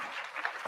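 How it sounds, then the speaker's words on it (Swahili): Short burst of audience applause for the President at a Youth International Day event in Kakamega, a brief wash of clapping with no talk. "Tumpigie makofi Mheshimiwa"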